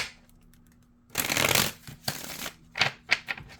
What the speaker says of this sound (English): Do a couple shuffles.